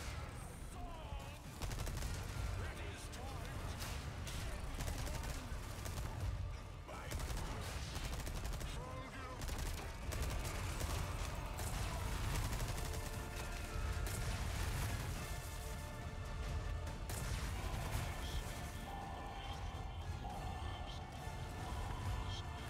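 Shotgun blasts and other gunfire in the Resident Evil 4 final boss fight against Saddler, with repeated loud booming shots over a dense, chaotic background of combat noise and the boss's sounds, continuous throughout.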